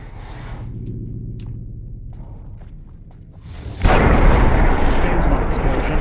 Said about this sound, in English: There's my explosion.